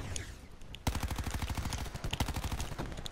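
Sustained automatic gunfire in Call of Duty Black Ops 4 multiplayer, a dense rapid burst of shots that starts abruptly and rattles on continuously at close range.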